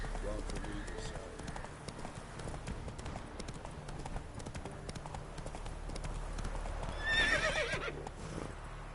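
Horse in The Witcher III game world: steady close clip-clop of hooves throughout, with a brief whinny near the end, set under game background sound and spoken dialogue.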